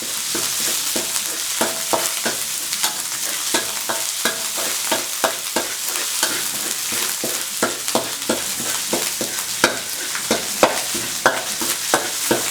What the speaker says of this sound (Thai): ผัดจนเหลืองเลยนะครับ